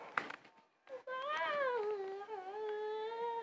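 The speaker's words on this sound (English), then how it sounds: "Is this just a random cat?" A cat meows in a long, drawn-out wail close by, after a couple of shorter faint sounds, with no talking over it.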